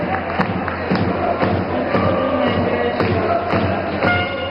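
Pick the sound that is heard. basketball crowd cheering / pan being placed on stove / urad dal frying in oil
basketball crowd cheering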